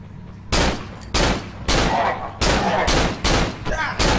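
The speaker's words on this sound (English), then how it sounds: "We're just gonna ball out with the pistol." Pistol fired in the horror video game Cry of Fear, six loud sharp shots spaced roughly half a second apart, each with a short ringing tail, up close and dominant.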